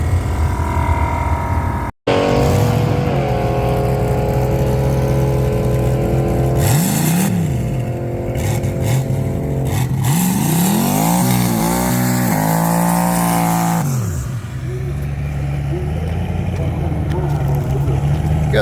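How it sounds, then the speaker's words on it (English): A 1980 Pontiac Trans Am with a turbocharged 6.0 Vortec LS engine does a burnout at a drag strip test-and-tune, its engine roaring loud and close, revving up and down in sustained rising and falling sweeps. "Good burnout."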